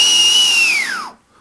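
A vortex whistle blown by mouth gives one steady, loud, close piercing tone that holds, then glides sharply downward and cuts off into near silence as the breath runs out.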